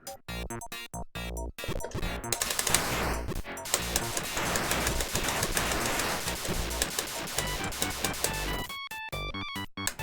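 Projectiles fired in the Karnov video game: a dense, unbroken wash of retro game effects and chiptune music runs through most of the clip, framed by sparse beeping tones at the start and end, with no talking.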